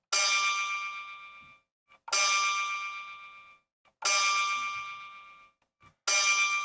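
Four separate bright power chords from a Waldorf Iridium synthesizer ring out one after another, each struck sharply and fading over about a second and a half before the next.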